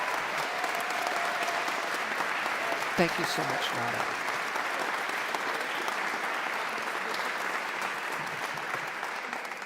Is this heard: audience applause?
yes